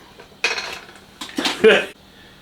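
A drawer is shoved shut with a clatter of cutlery and dishes rattling, in two or three quick bursts, close and fairly loud.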